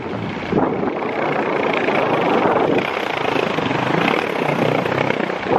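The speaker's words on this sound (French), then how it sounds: "à Bordeaux le skate il fait le bruit d'une moto" A skateboard rolls over cobblestones in Bordeaux, giving a loud, continuous rough rumble like a motorbike engine that holds steady with slight swells throughout.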